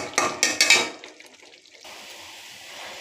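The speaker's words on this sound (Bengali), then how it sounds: "দেখো মশলা দিয়ে আমি আলুটাকে কষাচ্ছি, এখনও কষাবো, একদম শুকনো শুকনো করবো।" Spiced potatoes being stir-fried dry in a pan, a few quick metal scrapes and clatters at the start, then a low steady sizzle.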